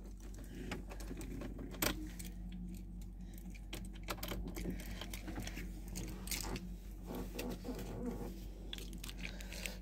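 Car keys jangle continuously up close for about ten seconds, handled and shaken beside a 2014 Volkswagen Tiguan 2.0 TDI, with occasional sharper clinks over a steady low engine-like hum.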